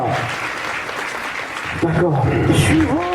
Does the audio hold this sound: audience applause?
yes